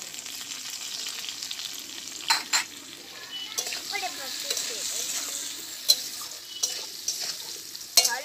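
Potatoes fry in hot oil with a steady close sizzle, broken by occasional sharp clinks and scrapes of a utensil stirring in the pan.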